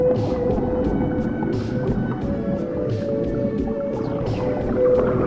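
Acoustic vaporwave music by 2814 drifts through a cavernous, echo-heavy space, with sustained washed-out tones and soft recurring swells that blur together into a steady, murky ambience.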